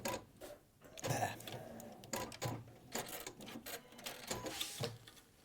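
A sewing machine stitching a triple tuck smock dress runs in uneven bursts of whirring and clattering needle strokes, starting and stopping several times, fairly close and moderately loud.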